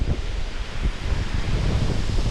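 Strong outdoor wind buffets a microphone along a highway during a bike-packing trip through New York and Maine, a steady loud roar with gusty low rumbles and no talk.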